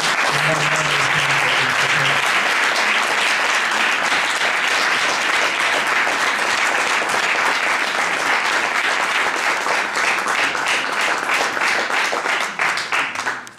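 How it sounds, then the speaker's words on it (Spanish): Sustained audience applause fills a hall at a literary event in Madrid, dense and even for over ten seconds before tapering off at the end, with a brief voice at the start. "Me gustaría que le diéramos un fuerte aplauso"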